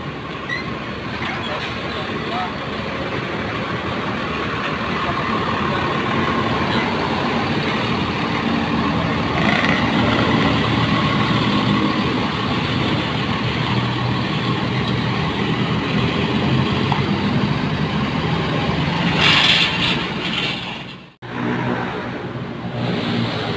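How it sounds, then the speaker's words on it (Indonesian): A bus engine drones steadily with low rumbling and rattling as the bus pulls into a station, rising slightly as it moves, with a brief cutout near the end. "jadi sekarang bisnya masuk di perwakilan."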